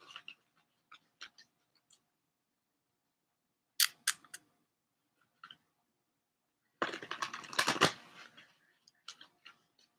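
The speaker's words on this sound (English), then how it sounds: "I'm just shuffling my cards here." A new deck of tarot cards is shuffled, with scattered soft clicks and taps, then a longer dense riffling burst near the end and a few more light taps, close and alone with no talk.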